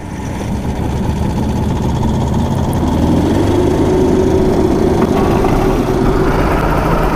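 A hovercraft engine runs steadily after starting, a loud continuous low drone that settles into an even idle and holds for several seconds without voices.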